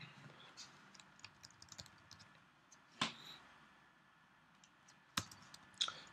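Quiet clicks of typing MATLAB code on a computer keyboard, with scattered key taps and a few sharper, louder keystrokes standing out over faint room hiss.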